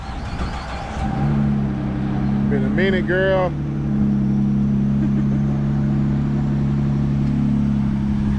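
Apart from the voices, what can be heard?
Ford EcoBoost truck engine starting and revving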